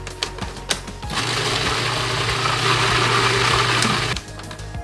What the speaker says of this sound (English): we're gonna blend them till completely very smooth, so there's no chunk of the garlic